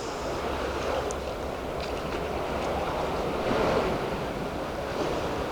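Sea waves wash against an ancient stone structure, a steady broadband surf roar with gentle swells and wind hiss throughout, no voices.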